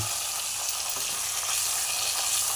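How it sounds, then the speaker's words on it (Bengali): Hilsa fish fry lightly in hot oil, giving a steady, soft, even sizzle that carries on without pause. "ইলিশ মাছ বেশি ভাজতে হয় না, জাস্ট খালি এপাশ ওপাশ একটু করে"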